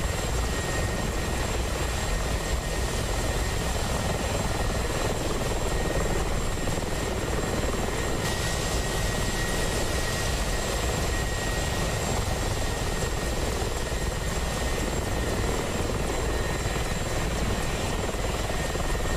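Mi-24P Hind helicopter flying in the DCS World simulator, a loud, continuous rotor and engine roar with steady turbine whine holding through the whole stretch, with no voices.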